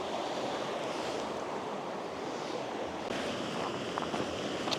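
Water flowing in a small creek at Landmannalaugar, Iceland, a continuous broad rushing hiss with wind buffeting the microphone, steady throughout and with no speech.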